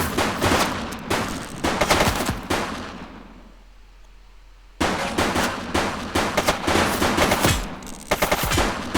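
Automatic gunfire from The Precinct video game rattles in loud rapid bursts, pauses for a few seconds of near quiet, then resumes in dense volleys.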